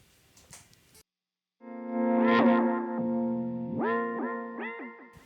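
Electric guitar played through a touch-sensitive effects pedal, producing sustained chords with a warbling, chorus-like shimmer. A faint rustle comes first, then a brief silence before the notes swell.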